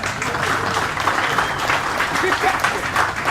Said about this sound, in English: please give that sombrero a round of applause